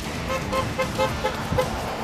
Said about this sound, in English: People always honking that much?